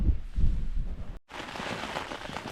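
Heavy rain drums steadily on a tent at a campsite along the Coast to Coast walk, a dense, close, continuous hiss with a brief dropout partway through.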